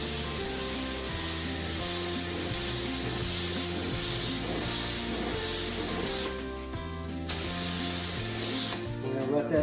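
A light coat of paint hisses from a spray gun onto a car panel in steady passes for dent repair, continuous and close, with brief pauses near the end.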